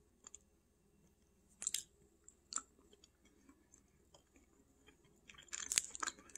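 Someone chewing Wegmans brand food sticks, several-weeks-old ones, with faint, close crunchy bites in scattered bursts separated by quiet pauses.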